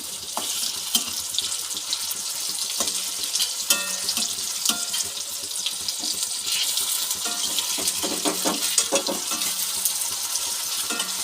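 Food fries in a pan in a home kitchen with a steady, bright crackling sizzle, punctuated by occasional clinks and stirring sounds, close and continuous with no voices.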